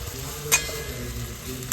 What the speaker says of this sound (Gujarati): એકદમ પરફેક્ટલી આપણે સાંતળી દઈશું આવી રીતે.